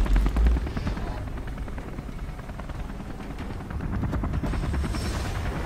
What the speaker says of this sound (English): This fucking chopper up here.